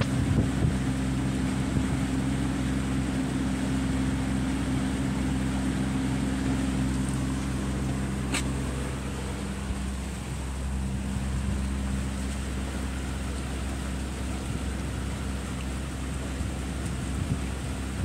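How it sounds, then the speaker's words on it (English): Pontoon boat motor running on a lake, a steady low droning hum that holds throughout, mixed with wind buffeting the microphone and faint water wash. "Good day to go for a boat ride."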